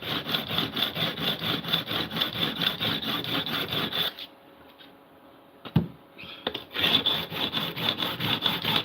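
Japanese-style plane blade rubbed on a 200 grit sharpening stone in rhythmic back-and-forth strokes, about ten quick passes, then a pause with a few knocks before the steady strokes resume.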